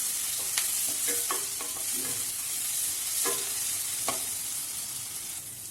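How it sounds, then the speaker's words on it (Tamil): Ginger garlic paste sautéing in oil in a pan, a soft steady sizzle punctuated by several spatula scrapes and taps against the pan, heard close with no speech. "இப்போ இஞ்சி பூண்டு விழுதோட பச்சை வாசனை போகிற வரைக்கும் இதை நம்ம வதக்கிக்கலாம்"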